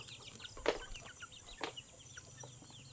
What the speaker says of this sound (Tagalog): Ang manok ko apil-apil sad.